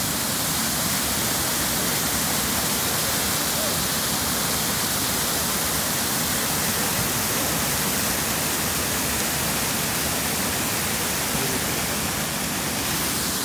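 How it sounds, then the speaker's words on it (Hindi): Floodwater from a cloudburst rushes across a mountain road in Uttarakhand, a loud, unbroken roar of churning water that stays constant throughout without any voices. "ये नीचे नदी जा रही है और ये वो पानी है जो रोड से हम लोग क्रॉस कर रहे हैं"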